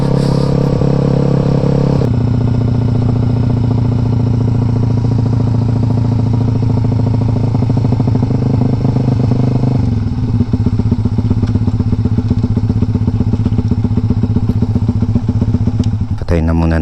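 A tuned motorcycle engine holds a loud, steady drone as it climbs toward top speed, its pitch stepping up at one point and then shifting again later, with a constant rough buzz throughout.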